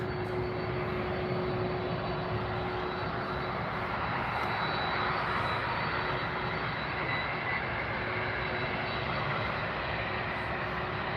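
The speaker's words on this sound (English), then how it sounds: "We have a LATAM now taxiing up. Gonna take off right in front of us." A LATAM jet airliner takes off at Miami airport, its engines a steady, heavy roar with a constant tonal whine that holds loud and unbroken throughout, heard from nearby without voices.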